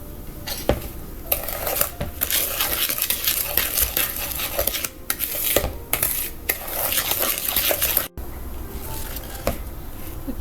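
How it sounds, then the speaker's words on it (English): Oatmeal raisin cookie batter being stirred in a bowl after vanilla extract goes in, with steady scraping, clinking and wet squelching strokes running close and continuous, with no talking. "now I am going to mix all the ingredients all together"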